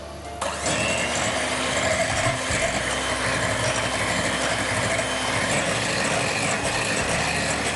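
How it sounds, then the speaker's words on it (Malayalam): An electric beater whisks eggs for a wheat cake, kicking in after a brief pause and then whirring in a loud, steady motor drone that runs on unbroken, no talking. "അപ്പോൾ ആദ്യം നമുക്ക് മുട്ടയൊന്ന് ബീറ്റ് ചെയ്യാം."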